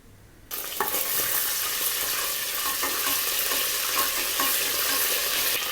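Ginger garlic paste hits hot oil and ghee in a pressure cooker, bursting into a loud, steady sizzle after a brief quiet start, with occasional stirring scrapes close by.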